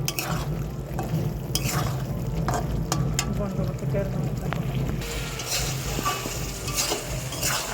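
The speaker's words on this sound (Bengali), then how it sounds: "এখন ভালো করে নেড়ে চেড়ে কষিয়ে নেব" Fried potatoes are stirred and sautéed in a fish curry, and a constant sizzle runs under irregular scraping and clinking of a spoon against the pan, close and fairly loud.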